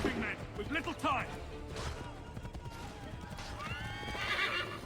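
A horse in Assassin's Creed III whinnies loudly over steady clip-clop hoofbeats, with game voices shouting nearby and a crash near the middle.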